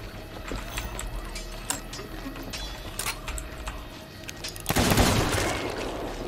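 Pistol shots ring out in a Sea of Thieves fight, several sharp cracks scattered over a busy game soundscape, with a louder burst of blasts near the end.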